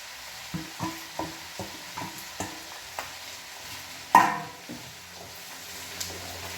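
A spatula stirs capsicum and onion frying in a pan for an Indo-Chinese dish. Rhythmic scraping strokes come about every half second over a faint sizzle, with one louder clatter midway.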